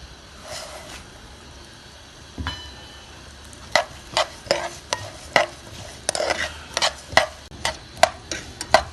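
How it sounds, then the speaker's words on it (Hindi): Whole coriander seeds toast lightly in oil in a pan for chaat masala, with a soft sizzle under repeated sharp clicks and taps of a spoon stirring against the pan, close and moderately loud. "इसी में हमने जो हमारा धनिया है, साबुत धनिया, इसको हल्का सा फ्राई कर लेना"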